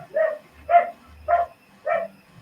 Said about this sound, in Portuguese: O lixeiro tá passando e minha cadela fica louca.